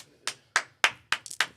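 Several sharp hand claps at a comedy performance, about five distinct slaps at a steady, slightly uneven pace, fairly close and alone with no talking.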